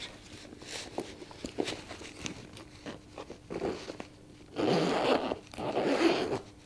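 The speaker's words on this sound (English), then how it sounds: "I love a good zip." A zipper on a Coach Long Rowan satchel rasps in several short pulls and longer drags, close and fairly quiet, mixed with light handling clicks and rustles.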